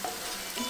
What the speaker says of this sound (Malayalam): 5 കൊച്ചുള്ളിയും കൂടെ ചെറുതായിട്ട് അരിഞ്ഞതുകൂടെ ചേർത്ത് കൊടുത്ത് നന്നായിട്ട് മൊരിച്ചെടുക്കണം.